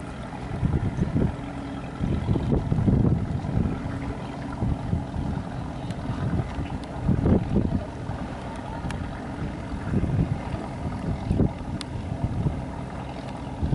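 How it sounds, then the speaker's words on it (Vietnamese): A large wooden clam-dredging boat with two exhausts runs out to sea, its engine a steady low rumble under gusting wind and passing waves, loud and close throughout. "ghe vỏ cào hến nè cái này bắt đầu à, đi à, đang chạy ra ha"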